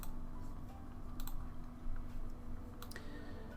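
Typing on a computer keyboard while entering text in Notepad on a Windows PC, a steady run of close, quick plastic key clicks with a few louder taps mixed in.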